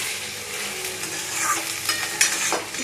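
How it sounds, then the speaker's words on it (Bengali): Rice grains fry in oil over a low flame while being stirred for khichuri, giving a close, steady soft sizzle broken by scraping stir strokes, with no talking. "চালটাকে ভালো করে তেলটা লোতে দিয়ে চালটা ভালো করে ভেজে নিচ্ছি।"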